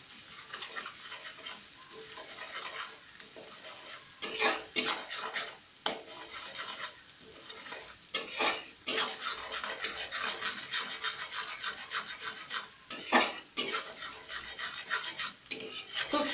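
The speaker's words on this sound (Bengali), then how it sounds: "খুব সুন্দর করে কষাতে হবে ব্যাপারটাকে।" Spices and ginger paste sizzle and fry in a pan for a Dhakai hilsa dish, with steady frying hiss under repeated scrapes and clinks of a stirring spoon.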